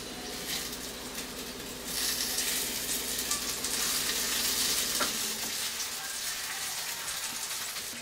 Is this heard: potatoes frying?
yes